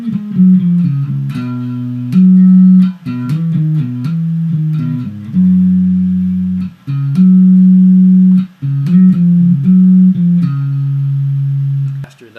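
Clean bass guitar playing a bassline at full tempo, a steady run of plucked notes with sustained holds and quick trills, loud and close with no voices.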